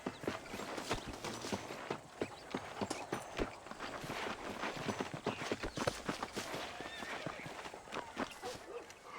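Horse hooves clip-clopping at a steady walking rhythm in the Western video game Red Dead Redemption, moderately close, with faint game ambience and no voices.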